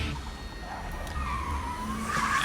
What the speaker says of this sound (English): the sound of the car screeching to a halt